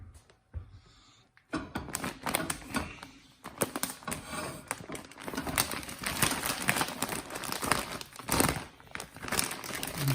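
A plastic mushroom substrate bag of alderwood crinkles and rustles as it is handled into a pressure cooker, with close, continuous crumpling after a short quiet start.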